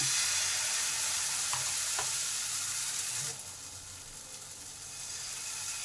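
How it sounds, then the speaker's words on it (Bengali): Patishapta batter, for a mango-filled Bengali rice-flour pancake, hits a hot pan and sizzles steadily up close, a bright continuous hiss that eases a little partway through and then swells again, with no voices. "নিচে উপরে গুলে নিয়ে তারপর কিছুটা এই প্যানে দিলাম"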